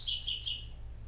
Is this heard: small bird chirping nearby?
yes